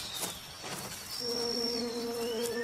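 Insect buzzing in the Amazon forest, taken to be a bee, rises to a steady, fairly loud drone with sustained tones midway, set against a busy background of other forest insects.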